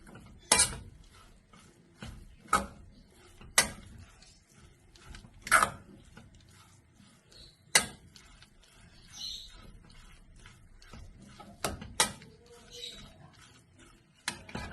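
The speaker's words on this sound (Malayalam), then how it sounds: "ഇത് നന്നായി ചേർത്ത് ഇളക്കിയെടുക്കാം." Beef roll filling with potatoes stirred in a pan, a spoon scraping and knocking against the metal in irregular sharp clicks and taps, quiet and close with gaps between strokes.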